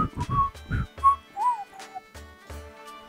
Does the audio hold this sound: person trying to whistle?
yes